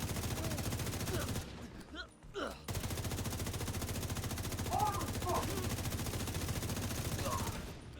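Rapid, steady automatic gunfire in The Division 2 rattles on almost continuously, with a short break in the middle, while a voice talks over it.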